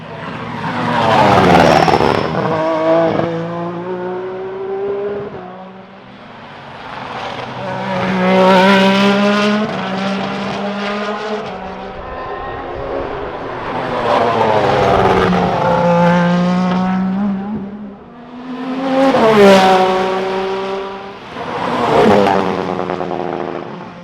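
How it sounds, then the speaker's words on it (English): The new Acura LMDH prototype race car makes repeated passes, its engine rising and falling in loud howling sweeps with rapid up-shifts. The car approaches and recedes several times, close and powerful, with no talk. "Here's the sound of the new Acura prototype."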